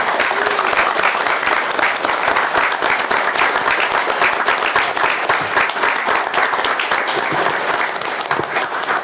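Sustained audience applause fills a Panama City, Florida city commission meeting honoring a retiring employee, dense steady clapping holding loud and even for the full stretch with no talk over it.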